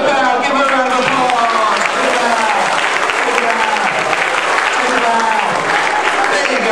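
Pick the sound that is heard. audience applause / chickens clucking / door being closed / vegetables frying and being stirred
audience applause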